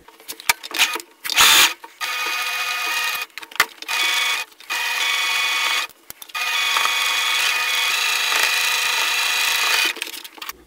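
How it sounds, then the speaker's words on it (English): A sewing machine stitching two groups of quilt fabric pieces together for a tulip quilt block, running in short whirring bursts and then longer steady runs with pauses between, close up and with no voices. "We're going to stitch these two groups together."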